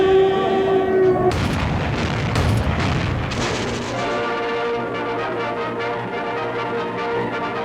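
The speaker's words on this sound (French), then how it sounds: "Le son du canon, partout." Cannon and artillery fire during the 1944 siege of Metz: a loud, close boom breaks through a held musical tone, followed by rumbling reverberation and scattered further blasts under continuing music.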